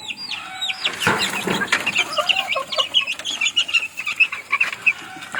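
Several chickens cluck and chatter nearby with a rooster among them, busy overlapping calls continuing throughout.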